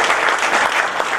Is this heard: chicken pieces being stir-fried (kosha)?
no